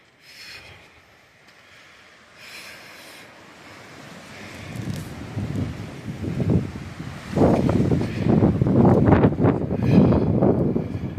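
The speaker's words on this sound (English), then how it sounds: "That wind is still going at it, still holding strong." Strong wind rushes through an aspen grove in autumn, starting faint and building into loud rustling gusts that roar with microphone buffeting toward the end.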